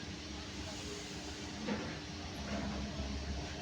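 Train at Bardhaman Junction railway station platform, a low rumbling hiss of rolling stock with faint clicks and platform ambience, distant and steady, a voice faintly in the background.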